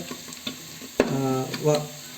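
Onions frying in a pan for upma sizzle softly while a spoon stirs and scrapes, with a brief louder burst of crackling midway.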